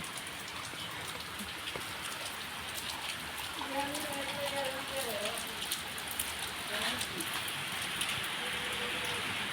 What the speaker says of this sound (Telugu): వర్షం వర్షం వచ్చేస్తుంది